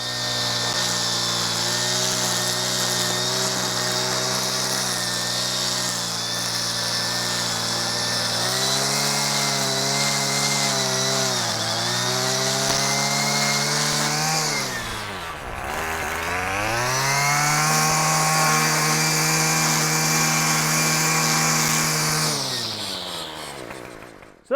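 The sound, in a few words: power tool cutting a lawn edge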